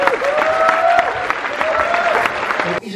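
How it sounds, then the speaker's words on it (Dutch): An audience at the Rotterdam Sportfilm Award ceremony applauds a filmmaker; loud, continuous clapping with a few tonal sounds over it, cutting off abruptly near the end. "Een hartelijk applaus voor Mustafa Hatzi Ibrahimovic."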